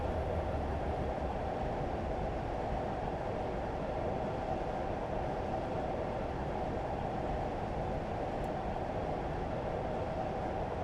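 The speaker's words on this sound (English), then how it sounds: "I'm going to slow down for 20 here because there actually is a 20 speed limit for heavy trains, and this is quite a heavy train." Heavy train running in Train Simulator 2017 on the Great Eastern route, a steady low rumbling roar of wheels and engine that stays constant throughout, loud and continuous with no speech.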